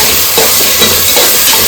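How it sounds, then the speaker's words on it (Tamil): Tomatoes sautéing in a pan for chicken kulambu, giving a loud, steady sizzle and hiss with a few stirring scrapes, close up and with no voices. "தக்காளி போட்டு நல்லா வதக்கணும்"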